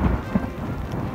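Hail mixed with snow pelting down on a high mountain in gusty wind, a dense steady patter with low rumbling gusts, continuous through the short stretch.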